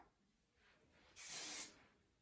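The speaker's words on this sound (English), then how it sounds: "A little bit more hairspray." One short burst of hairspray from an aerosol can lands on styled hair, a bright close hiss lasting about half a second amid near silence.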